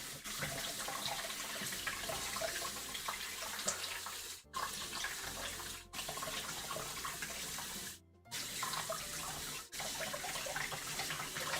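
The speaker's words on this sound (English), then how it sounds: "I gotta wash my hands now." Hands are washed under a running tap: continuous splashing water flows steadily, with a few short silent breaks where the stream is interrupted.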